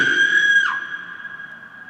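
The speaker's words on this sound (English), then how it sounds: "He opens it, and then they both scream." Two people scream together in a stage performance, a sustained high-pitched shriek that drops and fades out within about a second, leaving a lingering high tone.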